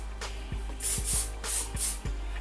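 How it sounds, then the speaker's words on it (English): Several short hiss bursts of hairspray sprayed upward onto hair on a lace wig, up close, in two pairs separated by brief pauses, with soft rustling between them. "And I spray it upwards like this, tilting my head like this."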